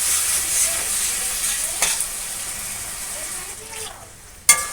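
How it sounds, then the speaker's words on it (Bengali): A sizzling mustard-based fish curry pan crackles steadily while stirred, the hiss shifting as a little water goes in, followed by a sharp clatter at the end. "এবার আমি দিয়ে দিচ্ছি অল্প পরিমাণে জল"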